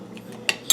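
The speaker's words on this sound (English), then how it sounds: "Go ahead and stir a little slow." A spoon clinks against a dish while stirring a cocoa mixture, giving two sharp, close metallic taps in quick succession over a quiet background.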